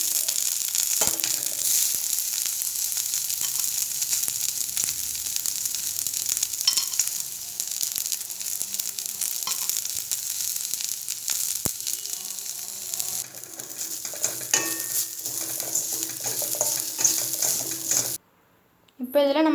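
Coriander leaves and grated coconut sautéing in a pan, a steady close sizzle with stirring scrapes running throughout, briefly cutting out near the end.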